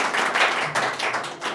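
An audience at a DXN leaders' gathering in Nepal breaks into applause, a short, fairly close burst of clapping with uneven surges.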